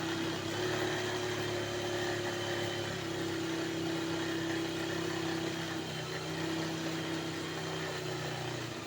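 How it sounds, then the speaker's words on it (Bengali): A sewing machine stitches a folded half-inch fabric strip, making a steady motor hum with a continuous tonal drone close by that runs unbroken throughout with no talk. "মোড়াকে সেলাই করে নিলাম।"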